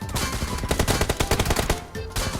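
Loud, close gunfire crackles in PUBG Mobile as rapid bursts of automatic shots stutter in tight clusters and then pause briefly.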